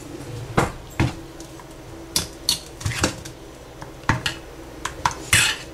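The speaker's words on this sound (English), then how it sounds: "Now I am going to mix it well." Tomato uthappam batter is stirred in a bowl, with a spoon knocking sharply against the sides in irregular clinks and taps, close and fairly loud over a low background hum.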